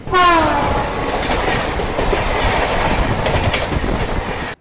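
The Sealdah–Agartala Kanchanjungha Express rumbles loudly along the rails, with steady clattering from its wheels and a brief horn-like tone at the start before the sound cuts off.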